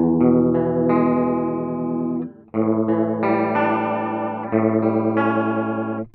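A guitar runs through the chorus effect of a NuX Cerberus pedal, giving a wobbly, seasick warble to sustained chords that ring loud and close with no talking.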